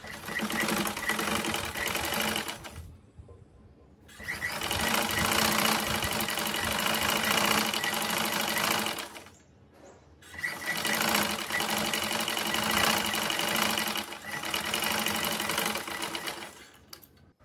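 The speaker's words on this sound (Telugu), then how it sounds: "ఆ షోల్డర్స్ దగ్గర నుండి హ్యాండ్స్ కింది వరకు స్టిచ్ అనేది వేసుకోవాలి." A sewing machine stitches a cotton jeans top from the shoulder down the sleeve, a fast rattling whir in three long bursts separated by short pauses.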